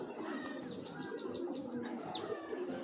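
A big female racing pigeon coos softly and close, with a few faint chirps and light rustling in a quiet loft setting.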